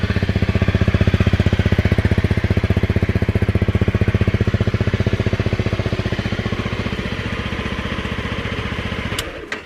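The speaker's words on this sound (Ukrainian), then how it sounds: "Цікаво, як їдеш, чуть мотор, як він урчить." A 2017 Honda CRF250 Rally enduro motorcycle engine purrs steadily and close by, a fast even throb running nearly the whole time before cutting off abruptly near the end.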